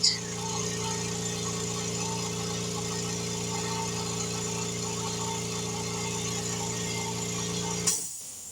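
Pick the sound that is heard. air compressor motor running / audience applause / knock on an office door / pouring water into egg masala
air compressor motor running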